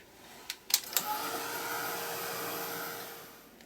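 A handheld heat dryer runs steadily over a mixed media art journal page, a continuous close whirring hum that starts after a few clicks and fades at the end.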